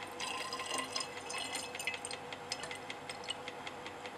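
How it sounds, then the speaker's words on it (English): In a lab, a phenol and water mixture is poured into a glass addition funnel: a quiet trickle with scattered drips and small glassy clinks, heard on its own. "we'll now pour this into the addition funnel"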